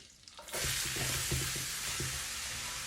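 Onions hit hot ghee and oil in a pot and erupt into a loud, steady sizzle, with a spoon knocking and scraping the pot as they are stirred; close up, no voices.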